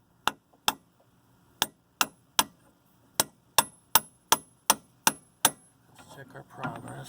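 Sharp, ringing hammer blows drive a circlip into the front wheel bearing retainer of a 2005 Toyota Sienna: about a dozen close, loud metallic strikes in an uneven rhythm, followed by a brief stretch of rustling work noise.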